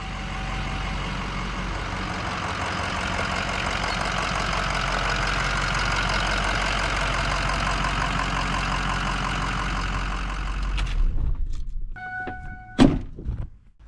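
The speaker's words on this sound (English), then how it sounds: "coming up to the truck now, we're just sitting here idling" A Ford 6.0 Power Stroke diesel pickup truck engine idles with a steady low rumble and clatter, then cuts off near the end, followed by a couple of thuds and a brief beep.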